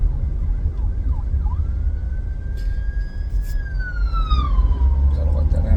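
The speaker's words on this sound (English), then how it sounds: "Gotta let that ambulance pass." An ambulance siren wails over a constant low traffic rumble, its steady tone swelling and then sliding downward in pitch as the vehicle passes nearby.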